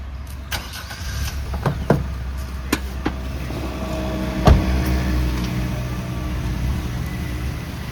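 A car starts up and its engine idles steadily as it gets ready to drive off, with a few sharp door and handling clunks early on and a loud thump midway.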